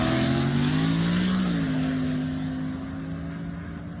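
A no-prep Mercury Cougar race car drones loudly under acceleration during a banger race, its engine holding a steady high note that shifts pitch and eases slightly toward the end.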